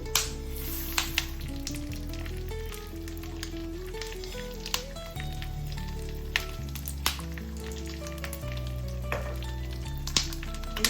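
Melon, pumpkin and sunflower seeds roasting in ghee in a pan, a soft continuous sizzle with occasional sharp clicks and scrapes of stirring, under a musical background with no talking.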